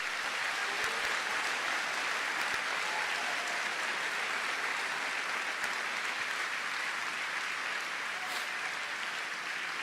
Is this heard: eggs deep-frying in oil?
no